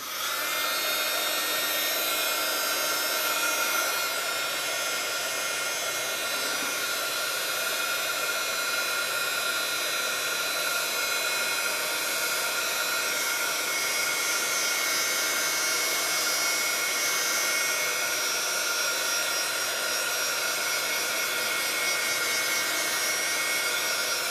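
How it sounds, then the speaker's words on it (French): A heat gun blows steadily for the whole stretch, drying a watercolor card with masking fluid. The sound is a loud, continuous airy roar with a high whine running through it. It stays close and even, and no one talks over it. "un petit coup de heat gun, et c'est parfait"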